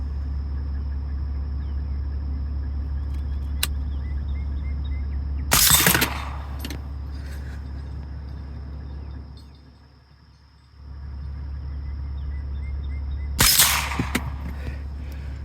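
Two sharp, muffled shots about eight seconds apart from a suppressed Sig Sauer rifle firing supersonic 7.62 rounds, each a brief burst with a short tail, over a steady low engine-like hum outdoors.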